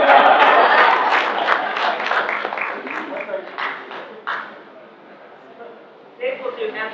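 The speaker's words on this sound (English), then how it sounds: "Let's give it another applause for Mike Stern" Applause from an audience at a BNI business networking breakfast meeting swells at the start, then thins out and fades while people talk over it.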